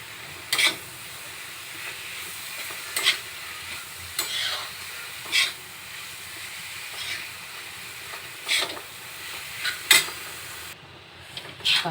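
Jawla dried shrimp sizzles softly in a pan as kokum is added and stirred, with a steady low frying hiss broken by about nine sharp scraping and clinking stirs of a spoon against the pan.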